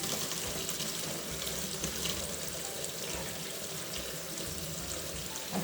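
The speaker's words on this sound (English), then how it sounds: "going to start by washing our eggplants." Tap water runs steadily into a kitchen sink as eggplants are rinsed for an Italian recipe, a continuous close splashing hiss with no talking.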